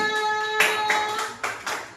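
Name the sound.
class clapping for group 3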